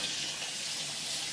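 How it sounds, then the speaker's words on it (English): Tap water runs steadily into a kitchen sink for a quick rinse while fish tacos are cooked, making a continuous close hiss and splash with no talking. "Give me a quick rinse."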